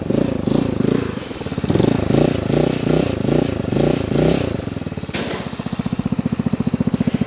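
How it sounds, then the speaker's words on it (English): A small 150cc gas fat-tire street-legal scooter, an Icebear Maddog Gen V, revs with a throaty, uneven putter, then settles into a steady, rapid idle close by. "Sounds good, very throaty"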